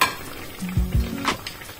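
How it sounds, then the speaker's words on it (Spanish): Slices of bread frying in oil for torrijas, a Spanish Holy Week sweet, with a soft sizzle and a few close clinks of utensil against the pan. "mientras que voy friendo el pan"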